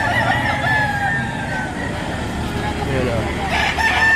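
A rooster crows loudly and near, one long drawn-out call over a busy, noisy background of other fowl at a chicken market in Lipa, Batangas.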